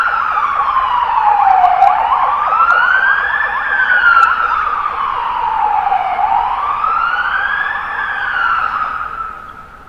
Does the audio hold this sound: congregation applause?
no